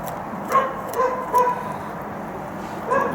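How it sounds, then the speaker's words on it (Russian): Neighbours' dogs bark outdoors at a distance, four short, muffled barks spaced irregularly over a steady background hum. "там соседские собаки лают"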